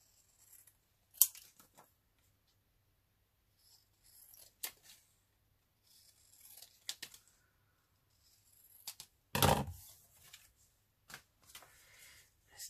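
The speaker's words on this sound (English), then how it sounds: "let's cut this out." Scissors cut paper for a collage page in short, crisp snips spread across the stretch, close and quiet, with faint handling rustles between them and one louder papery crunch near the middle.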